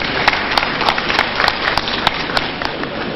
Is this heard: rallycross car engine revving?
no